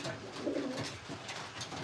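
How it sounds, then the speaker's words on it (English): Racing pigeons coo at feeding time in the rain, soft repeated throaty coos close by over a faint steady rainfall hiss. "Hoping you can hear the rain and the pigeons."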